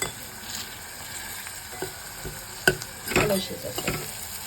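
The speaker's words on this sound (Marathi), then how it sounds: "छान परतून घेऊया आपण हे मिश्रण टोमॅटो थोडंसं जरा शिजू दे" A tomato and spice mixture sautés in a pan with a soft, steady sizzle, and a spoon scrapes and stirs through it in a few clattering bursts near the end.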